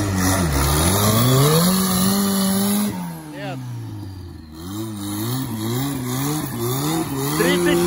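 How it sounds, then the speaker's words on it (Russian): A turbocharged Niva 4x4 revs hard on a rough off-road trail, its engine pitch rising and falling in repeated surges, loud and close, with voices talking over it. "Так, Виталя на турбо-ниве пробует еще раз"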